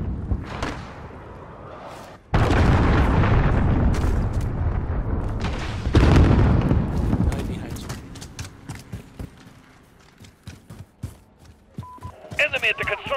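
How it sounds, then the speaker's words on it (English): A cruise missile blast in Call of Duty Modern Warfare team deathmatch: two heavy booming explosions in quick succession, loud and close, with a rumbling tail that fades into scattered clicks and game noise. "Enemy cruise missile."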